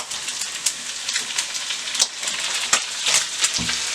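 Onions and chicken sizzling in a hot pan, a dense crackling hiss with scattered pops and stirring scrapes, close and fairly loud with no voices.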